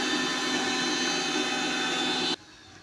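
A mixer grinder whirs loudly and steadily as it grinds masala with salt and a little tamarind water for a fish curry, then cuts off abruptly after about two seconds into near silence.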